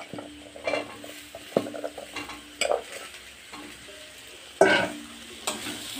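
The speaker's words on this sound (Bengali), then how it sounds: "এবারে আমি আলুটা দিয়ে দেব, ভালো করে আলুটা ভেজে নেব" Potatoes sizzle in hot oil in a village kitchen pan while a spatula stirs them, scraping and clinking against the metal in irregular strokes, close and fairly quiet.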